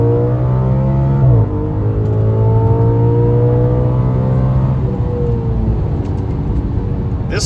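Audi RS5 engine revving hard as it accelerates up a highway on-ramp, heard from inside the car, with a steady loud drone that climbs in pitch through a gear change and keeps pulling.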